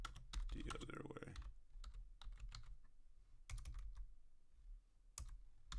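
Slow typing on a computer keyboard, scattered key clicks arriving in short bursts with pauses between them, close and fairly quiet, with a brief stretch of low voice near the start.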